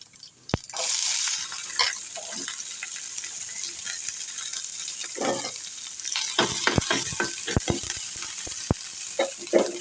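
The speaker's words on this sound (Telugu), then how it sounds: "ఇప్పుడు పోపు గింజలు వేగాయి కదా, ఇప్పుడు తరిగి పెట్టుకున్న ఉల్లిపాయ ముక్కలు వేస్తున్నాను." Chopped onions dropped into hot oil with crackled tempering seeds, sizzling and frying up close, with stirring scrapes and sharp clinks from a spatula against the pan throughout.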